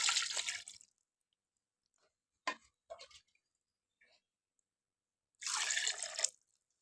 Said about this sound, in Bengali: এখন আমি পানি দিয়ে দিচ্ছি সামান্য।